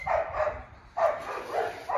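Dogs at a mountain base bark in short bursts, three clusters spaced about a second apart, moderately close and clear, with no talking over them.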